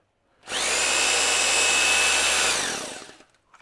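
An 850-watt rotary hammer drill, powered from a portable charging station, whirs up loudly for about two seconds, then spins down and fades to quiet.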